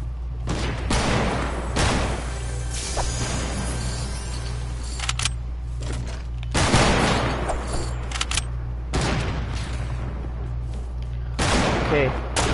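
Hunting rifle shots in a video game crack out in sharp bursts at irregular intervals, loud and close, over a low steady rumble.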